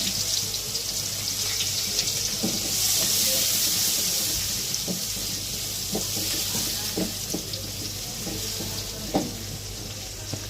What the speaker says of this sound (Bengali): তারপর আমি তেলের মধ্যে হালকা পেঁয়াজ দিয়ে দিব, এটা হালকা ভেজে নিব ব্রাউন কালার